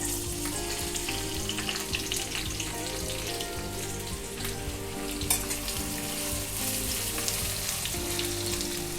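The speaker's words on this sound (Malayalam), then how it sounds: "അത് നമുക്ക് ഈ ഓയിലിലേക്ക് ഇട്ട് കൊടുക്കാം. എന്നിട്ട് നല്ലതായിട്ടൊന്ന് വഴറ്റിയെടുക്കണം." Finely sliced onions sizzle in hot oil in a kadai for chicken korma, a steady close frying hiss with light stirring, with soft background music beneath.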